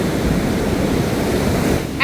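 Ocean waves and surf rushing steadily at close range, a continuous broad wash of water with no voices.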